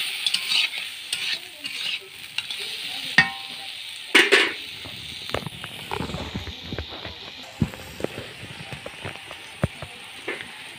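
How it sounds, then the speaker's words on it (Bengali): Crabs being stir-fried in a pan, a continuous close sizzle broken by frequent sharp clacks and scrapes of a spatula stirring, with no voices. "আমি কাঁকড়াগুলো দিয়ে দিলাম। দিয়ে জাস্ট 5 মিনিট মতো ভালো করে কষাতে হবে"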